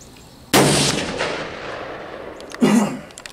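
A rifle shot during a deer hunt cracks loudly and close, its echo rolling away across open ground, followed about two seconds later by a second sharp shot.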